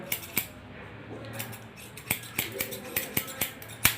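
Scissors snipping hair during a step-by-step haircut, a series of crisp metallic clicks that come faster toward the end, close and clear over a quiet room.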